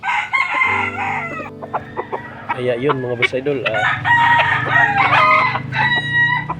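Several gamecock roosters crow loudly and repeatedly, overlapping with clucking hens, while someone speaks briefly in the middle.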